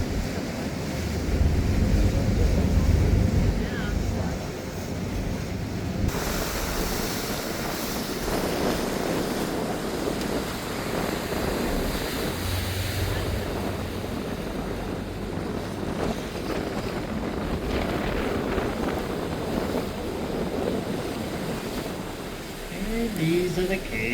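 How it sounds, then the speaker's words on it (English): Large waves surging into rock sea caves along the Lake Superior shore in fall, a continuous rushing, booming wash mixed with heavy wind buffeting on the microphone, sustained and loud. "some large waves come crashing into these caves"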